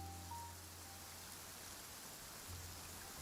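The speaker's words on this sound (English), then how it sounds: "Rain." Steady rain falls in a Genshin Impact scene, a soft, even hiss of drops with a low hum beneath, quiet and continuous with no voices.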